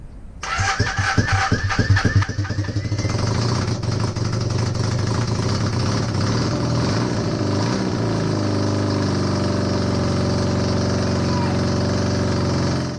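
An old motorcycle engine in a home yard sputters and catches, then settles into a loud, steady running rumble close by that carries on to the end.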